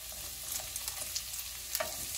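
Chopped onion sautéing in plenty of hot oil at the start of pork Bicol Express, a steady soft sizzle and crackle with light stirring clicks and a brief louder spatter near the end, no talk.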